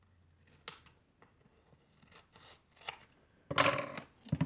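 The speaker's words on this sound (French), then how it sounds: "Je coupe le surplus." Scissors trim excess paper strips from a patchwork paper card, making several crisp close snips spaced irregularly, followed by a longer burst of cutting and rustling near the end.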